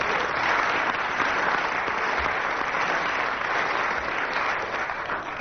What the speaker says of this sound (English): And with that spontaneous burst of applause from the audience, Graeme, you win that round.